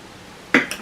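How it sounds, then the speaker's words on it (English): Metal knitting needles clashing together while working a 1x1 broken rib, two quick sharp clicks in close succession, near and fairly loud against quiet room tone. "the needles are clashing"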